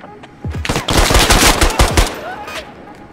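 Rapid automatic gunfire from a Squad video game match rattles in dense, loud bursts close by, with a few single shots before and after the main volley.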